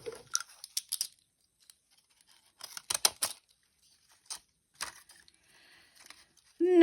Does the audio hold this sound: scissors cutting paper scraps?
yes